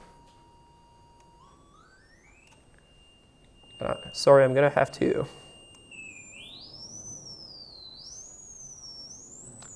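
A synthesized oscillator tone from a Faust audio programming demo holds steady, then steps and glides steadily higher, with faint aliased partials appearing alongside it. Someone speaks briefly partway through.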